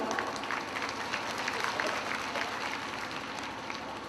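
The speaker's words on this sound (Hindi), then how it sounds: "कृपया जोरदार ताली बजावें।" Audience at a seminar on industrialization and environmental pollution clapping in welcome, a dense continuous round of applause from a sizable crowd, fairly even in level from start to finish.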